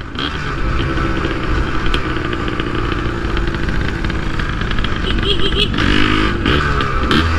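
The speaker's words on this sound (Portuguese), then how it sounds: "Essa é uma moto que está cada dia mais rara." A Yamaha DT 180 motorcycle engine runs loudly and steadily close by in a city centre, a continuous rumbling drone that swells slightly toward the end.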